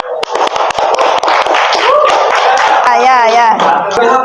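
Applause for group 4 in a classroom-style gathering: a scatter of hand claps builds into steady clapping from a group, with voices talking and calling out over it.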